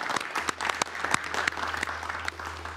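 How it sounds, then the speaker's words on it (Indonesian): Applause for the Yogyakarta city government breaks out in a TV talk show studio, a sustained round of clapping from a modest audience, fairly close and steady, with a low hum underneath. "Tepuk tangan untuk Pemkot Yogyakarta."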